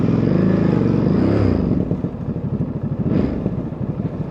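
Ducati Monster 937 motorcycle engine at low speed in town, a loud close throbbing rumble with steady pulsing beats that slightly rise and fall, with wind buffeting over it.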